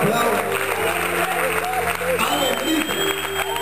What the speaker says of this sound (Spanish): Vamos, alguien aplaude.